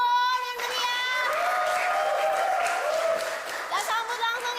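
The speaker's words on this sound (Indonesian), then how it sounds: "Tepuk tangannya dong yang meriah" Audience at a school performance applauds and cheers for a twelfth-grade band, a steady wash of clapping with children's shouts and whoops rising above it.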